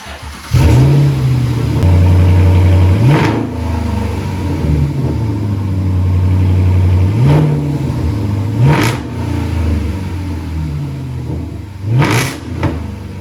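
Jaguar XK 5.0 V8 convertible with the stock rear exhaust deleted, revved repeatedly from a loud idle with sharp rising blips and falling drops, close and alone.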